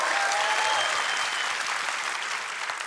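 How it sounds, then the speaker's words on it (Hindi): Studio audience at a televised Hindi comedy show breaks into loud, sustained applause, a dense wash of clapping that fades slightly toward the end, with no speech over it. "तालियों की गड़गड़ाहट होती है"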